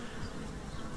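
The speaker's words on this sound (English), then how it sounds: "But listen to the air around and look at the bees." Dense, continuous buzzing of many honey bees flying and hovering at a hive entrance fitted with a queen excluder, a loud steady drone close to the listener.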